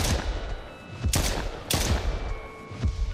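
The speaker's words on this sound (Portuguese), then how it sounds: "Vou atirar nele." Gunshots in the horror game Silly Billy: three sharp, loud shots at roughly half-second to one-second gaps, then a fainter fourth crack, each ringing briefly in a quiet room with no talk.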